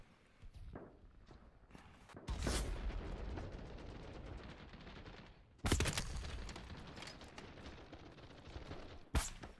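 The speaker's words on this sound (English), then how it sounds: "Looks like my teammates are shooting at right now." Gunfire in the shooter game BattleBit Remastered, with several sharp bursts of shots at moderate distance, the loudest near the start and the middle, over a steady background of game noise and no talk.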